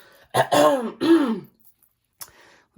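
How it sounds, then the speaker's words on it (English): Someone clears their throat twice in quick, rough bursts close to the microphone, followed by a short faint sound and quiet. "clear my throat"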